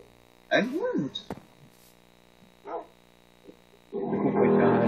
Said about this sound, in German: Ein Hund!